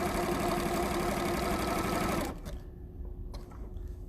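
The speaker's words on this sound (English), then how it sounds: "it's pushing the wool roving right into the cotton" An embellisher needle-felting machine punches wool roving into cotton with a fast, steady mechanical chatter like a sewing machine, close and continuous for about two seconds before stopping abruptly, leaving a faint hum.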